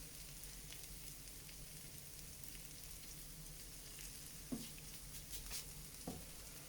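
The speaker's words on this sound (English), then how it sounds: "we're going to let that melt, we're going to stir that in" Butter melting over Brussels sprouts and sweet potato in a pan gives a soft, steady sizzle, with a few light scrapes and taps of stirring near the end.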